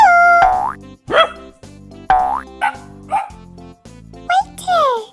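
Toy-like barks and a springy boing effect in a doll play scene with Barbie and LOL Surprise dolls, several short yips and bow-wows in quick bursts, loud and close, with a voice talking between them.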